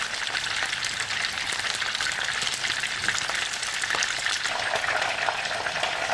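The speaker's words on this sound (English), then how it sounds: "here I have my fish that is frying" Fish frying in hot oil in a pan, a steady dense sizzle with crackling pops throughout, close and continuous with no talking.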